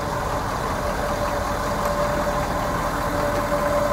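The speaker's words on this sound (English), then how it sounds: "Diesel engine" The diesel engine of a Ford Super Duty F-350 Lariat idles close by, a constant low rumble with a faint whine, unchanging throughout and with no voices.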